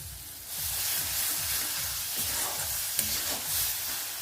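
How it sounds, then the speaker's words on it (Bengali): Grated coconut is stirred into melted jaggery in a pan over a low flame, with a continuous close sizzle and steady rhythmic scraping of the spoon against the pan. "এবার আমি নারকেলটা এর মধ্যে দিয়ে দিচ্ছি।"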